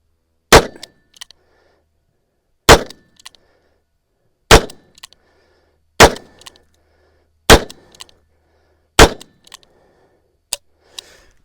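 Colt Python revolver fired on an outdoor range: seven loud, sharp single shots spaced about one and a half to two seconds apart, each cracking and ringing briefly before the next, with no talking.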